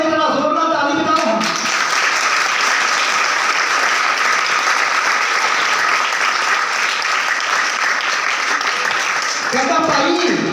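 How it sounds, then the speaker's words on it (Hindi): A church congregation at a Sunday service claps loudly and continuously for about nine seconds, with a voice speaking just before and after the applause. "जेडे जुलूस दे विच शामिल होए जरा जोर नाल ताली बजाओ।"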